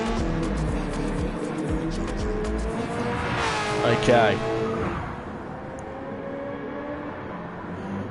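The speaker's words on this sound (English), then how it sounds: "You can hear those gears shifted, you can hear the exhaust." A Supercars race car passes at speed on a racing circuit, its engine roaring with audible gear shifts and a rising, then falling exhaust note. A commentator talks over it throughout.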